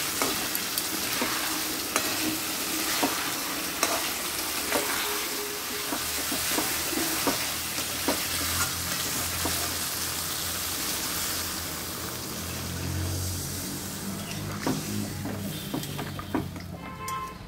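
Biryani masala being stir-fried in a pan: loud, dense frying sizzle with constant stirring and scraping strokes and a low rumbling undertone, close up and continuous, no voices.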